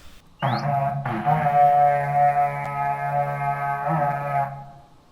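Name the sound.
distorted trumpet sound from a video game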